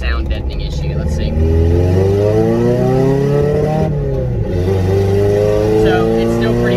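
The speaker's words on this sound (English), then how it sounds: "this is a straight piped car, basically. So, it's gonna be loud." A loud straight-piped car engine roars and revs up, its pitch climbing, dipping briefly and climbing again, with a raspy exhaust note throughout and a voice talking over it.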